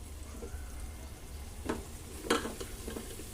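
Mutton biryani is stirred and mixed in a pot, a low faint sizzle broken by a few soft scrapes and clinks of a spoon, with no voices.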